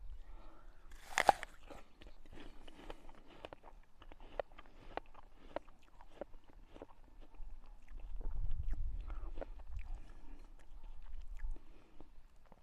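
Crisp, close crunches as a Gustav apple, juicy and sweet-tart, is bitten and then chewed, with a sharp bite near the start followed by steady rhythmic chewing.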